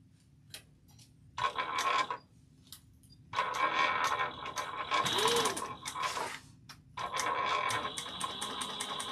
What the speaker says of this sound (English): I'm just following the 2 line on my sewing machine.